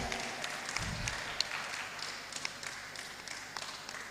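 Fairly quiet applause at a student inventors webinar for a high school research team, a steady patter of many clapping hands with a few sharper claps and a brief low voice early on.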